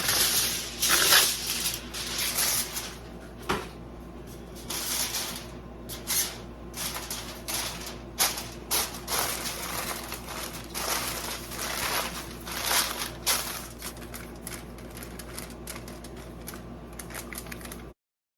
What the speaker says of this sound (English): Heavy-duty aluminum foil.